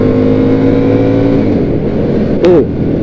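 Husqvarna Nuda 900R motorcycle engine heard up close and loud, a steady high-revving drone that drops in pitch as the rider eases off, then a brief sharp burst near the end.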